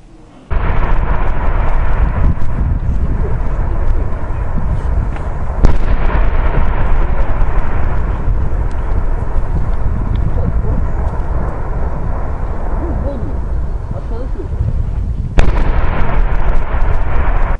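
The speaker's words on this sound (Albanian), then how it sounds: "Shpërthimet e mëdha shkaktojnë çdo ditë tronditjen e qytetit të Pukës" Large explosions from munitions disposal near Puka, Albania: a continuous low rumble broken by two sharp, heavy blasts, with a voice speaking over it.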